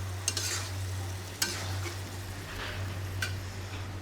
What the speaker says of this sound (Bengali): এই যে মুরগির মাংস ঝাল ঝাল করে কষায় রান্না করতেছে।